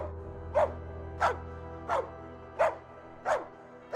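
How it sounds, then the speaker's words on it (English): Dog in the Metal Gear Ruff video game barking on a held woof button, five evenly spaced single barks about two-thirds of a second apart, clear and close over a low steady game hum. "I have a dedicated woof button,"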